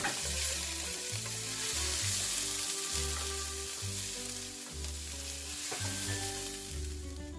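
Ginger, garlic, cumin seeds and caraway seeds sizzling and crackling in a pan for cauliflower rice, a loud continuous fry with music playing underneath and no talking.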